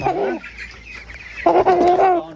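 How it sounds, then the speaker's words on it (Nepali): A rooster on a poultry farm gives close, throaty clucks in two short bursts separated by a quieter pause. "यो भालेलाई चाहिँ म राख्नु गइरहेको छु"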